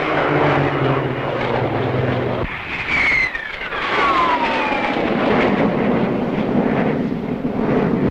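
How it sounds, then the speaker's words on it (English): A Hawker naval fighter flies past with a loud, steady piston-engine drone, its pitch sliding downward as it sweeps by, with wind rumble on the microphone throughout. "Hawker naval fighter."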